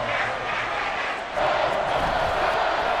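A football stadium crowd roars in a dense, steady wash ahead of a big third down, swelling louder midway through and holding there, with no voice clearly standing out.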